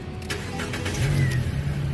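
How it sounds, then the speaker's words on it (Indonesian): A 2013 Nissan Grand Livina 1.5 Highway Star automatic with about 110,000 km cranks and catches, settling into a steady running engine hum, close and moderately loud, with no talking. "Sekarang kita coba nyalakan mobil."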